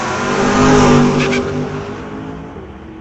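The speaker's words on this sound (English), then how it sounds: "Running the 5-liter Ford Mustang." A 5-liter Ford Mustang drag race car accelerates hard at a drag strip, a loud, close engine roar that swells and peaks within the first second, then fades as the car pulls away.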